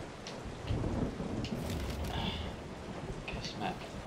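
Rain and thunder outside in the video game Resident Evil 7: a dense, steady hiss of rainfall with low rumbling, quiet and continuous, while a person talks over it.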